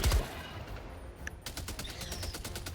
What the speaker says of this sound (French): La tourelle qui fait le taf toute seule.